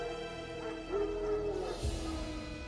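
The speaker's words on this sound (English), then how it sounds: "No. Wild dogs." Wild dogs in the video game The Witcher 3 give faint, distant yelps and whimpering barks against a quiet backdrop of sustained tones and ambience.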